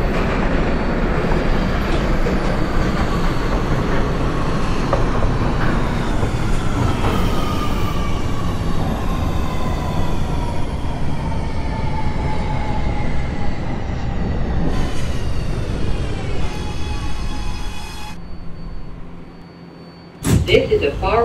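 An R211A subway car of the A train in a simulator game rolls along with a loud, continuous rumble and rising, whining motor tones, then a brief dip in sound before the noise surges back as the train moves off.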